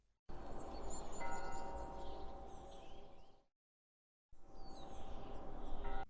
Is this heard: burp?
no